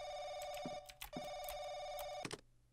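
A loud electronic phone ring repeats in three steady bursts with brief gaps between them, inside a run-down apartment in the horror game The Crooked Man.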